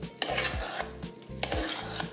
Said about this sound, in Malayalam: ഇനി ഇതിലേക്ക് ഈ ചൂടോടുകൂടി തന്നെ നമ്മൾ ഫ്രൈ ചെയ്ത് വെച്ചിട്ടുള്ള ഈ ബ്രെഡ് ഉണ്ടല്ലോ ആ പീസ് ഇട്ട് കൊടുക്കുകയാണ്. എന്നിട്ട് ഒന്ന് മിക്സ് ചെയ്യാം.